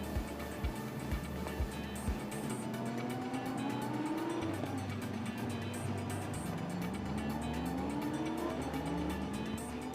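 A pack of Lamborghini Super Trofeo race cars pulls away at the Nürburgring, engines rising and shifting in pitch as several cars accelerate past, a steady loud roar throughout.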